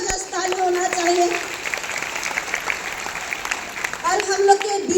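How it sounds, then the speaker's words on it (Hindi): An audience at a DXN gathering breaks into applause, a dense wash of clapping that fills the middle while a voice speaks through amplified speakers at the start and end. "एक बार जबरदस्त ताली होना चाहिए"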